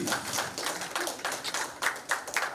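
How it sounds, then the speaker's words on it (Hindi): An audience claps steadily for Shabana Azmi at an album launch event for Urdu poetry, with dense, sustained applause filling the room and a few louder individual claps toward the end. "जोरदार तालियां फॉर शबाना आजमी जी"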